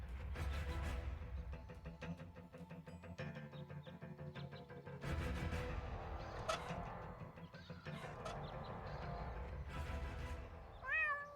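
A cat meows repeatedly in a video game, several drawn-out, fairly faint cries spread across a quiet background with light game ambience, with no talking.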